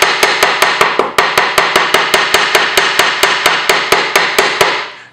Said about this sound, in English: Just gonna give it the hammer.